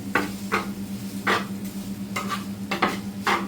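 Cold cooked rice stirs and scrapes in a hot pan with a soft sizzle, the spatula strokes coming in a loose repeating rhythm close by.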